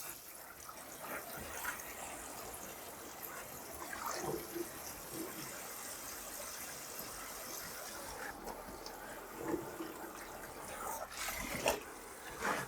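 Tap water runs steadily into a basin to refill it for a second rinse of a hand-washed outdoor windbreaker jacket. A continuous rushing flow with a few louder splashes lasts throughout at moderate loudness, and no other sound stands out.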